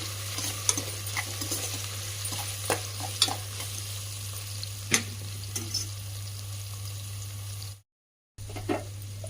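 Soya chunks fry in oil for a coconut milk soya pulao, with a steady close sizzle, scattered stirring clicks and scrapes, and a low constant hum beneath; the sound cuts out briefly near the end.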